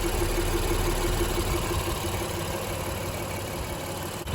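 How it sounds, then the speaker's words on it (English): A Honda Odyssey minivan's naturally aspirated 3.5 liter V6, paired with a 9-speed transmission, runs at a steady idle, a continuous close hum with a low tonal drone and no talking. "you can just hear the horsepower oozing out of this minivan"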